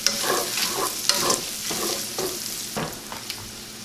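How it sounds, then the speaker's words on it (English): Butter melting and sizzling around sausage in a frying pan, a steady crackling fry with occasional stirring scrapes, close and moderately loud, no talking. "we are going to let that melt and coat all of our sausage"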